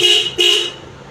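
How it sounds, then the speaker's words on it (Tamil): Two short loud honks from the horn of an electric load vehicle, sounded close by in quick succession during wiring repair work. "ஹார்ன் அடித்தோம்."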